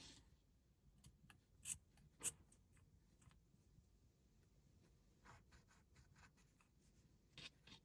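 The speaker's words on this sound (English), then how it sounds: "Trim any excess thread with scissors." Quiet scissors trim excess embroidery thread on a crocheted amigurumi, a few snips with two sharp, distinct cuts among faint rustling and handling sounds, close and soft.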